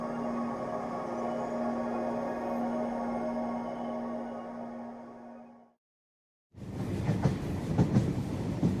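A train runs on rails in a steady rumbling drone with a humming tone, cuts to a brief silence, then returns as busier rattling and clattering of the cars, fairly loud and close.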